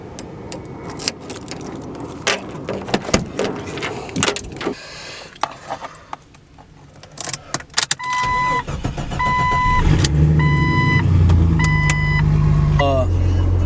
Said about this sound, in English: start it up, just let it run for a little bit